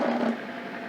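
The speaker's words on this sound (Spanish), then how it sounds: "Nada más disculpa el ruido que produce pues el motor." An electric motor turning the egg rack of a homemade wooden incubator gives off a steady, even mechanical hum, close and continuous with a slight tonal whine at the start.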